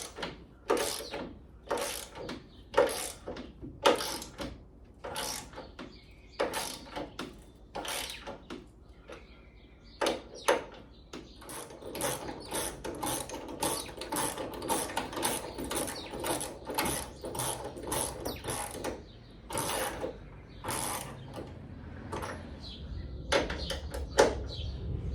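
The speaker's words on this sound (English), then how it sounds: "Okay, we get the ratchet now, tighten that up." Ratchet wrench tightening steering components, including the idler arm, on a VW Super Beetle, heard as a long run of quick metallic clicking bursts, close and fairly steady, with brief pauses between strokes and no talking.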